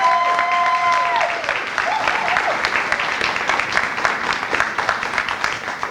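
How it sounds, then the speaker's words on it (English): A room gives sustained applause to county scholarship recipients Tamara and Jessica, with dense clapping from near to mid distance, a few whistles at the start and voices mixed in. "Can we give Tamara and Jessica one more round of applause?"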